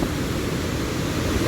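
Rushing water from the Rhine Falls roars as a constant broadband wash, steady and enveloping with no breaks or voices.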